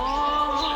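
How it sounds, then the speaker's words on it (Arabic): Sparrow chirping close by in a continuous, bright, high-pitched run of calls with no pause. "صوت العصفور هذا مو قلت لك؟"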